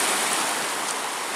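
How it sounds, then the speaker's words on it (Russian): Steady broadband wash of Black Sea surf, continuous and fairly loud, like waves breaking nearby with no voices. "Ну и вот море."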